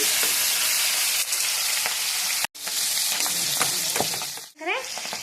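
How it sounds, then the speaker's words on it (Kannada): Whole spices frying in a little oil for a butter paneer biryani, a steady loud sizzle and crackle close by with occasional stirring scrapes, ending with a brief clink and soft speech. "ಕಲ್ಲು ಎಲ್ಲ ಹಾಕಿ ಮಸಾಲೆಗಳನ್ನ ಒಂದು ಸ್ವಲ್ಪ ಎಣ್ಣೆಯಲ್ಲಿ ಫ್ರೈ ಆಗಲಿ"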